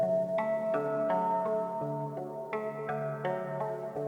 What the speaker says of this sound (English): Kind of like a clean pluck sound